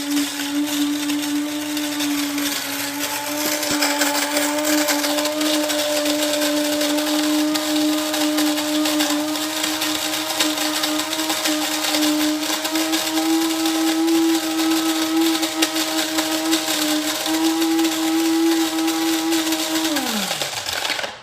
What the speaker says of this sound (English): you're going to grind your beans, and we're actually going to just listen to it